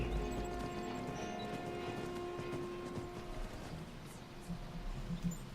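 Horse hooves clop steadily in Skyrim, a continuous rhythmic trot set against a droning game music bed, with faint scattered sounds near the end.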